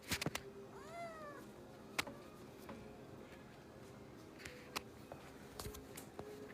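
A pet cat gives one clear, rising-and-falling meow close by, followed by scattered soft taps and clicks in a quiet room.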